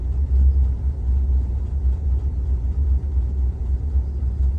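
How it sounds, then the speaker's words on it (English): A low, steady engine rumble idles continuously, fairly loud and close, with slight fluctuations in its rhythm and no voices. "I just depress it just a little bit to kind of keep it going at that idle."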